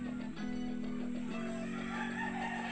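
Chickens at a poultry shed beside rice fields in a West Java village, with a rooster crowing and some clucking over a constant background hum.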